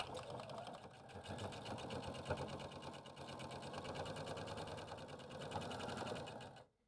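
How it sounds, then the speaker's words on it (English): A sewing machine runs steadily for about seven seconds, stitching a quarter-inch seam around all four edges of a pillow, a continuous close whir that stops abruptly at the end. "using 1/4 inch seam allowance, you'll stitch around all 4 edges"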